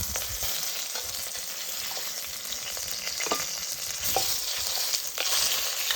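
Lamb shanks fry in a pot with a steady, dense sizzle and crackle, joined by occasional scrapes and clinks of a utensil stirring. The sound is close and continuous, with no speech.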